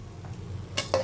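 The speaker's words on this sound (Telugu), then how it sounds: "ఇవంతా బాగా వేగాలండి." Tamarind and spices fry in a pan for curry leaf powder (karvepaku podi), with a faint sizzle under two brief stirring scrapes near the end.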